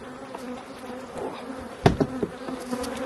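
Honeybees swarm out of opened hive boxes with a steady, close buzzing hum, a few louder sharp bursts rising partway through, and no talking.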